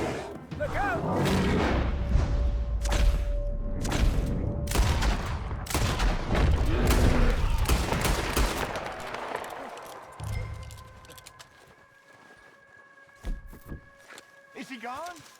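Repeated gunfire rings out in Red Dead Redemption 2 as a giant bear is shot at, sharp cracks and booms in rapid succession mixed with shouted voices and game effects, fading toward the end.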